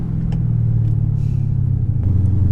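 A 2014 Mercedes C63 with a 6.2L 550 bhp V8, engine map and IP exhaust, rumbles in a steady deep drone heard from inside while cruising, with a slight swell toward the end.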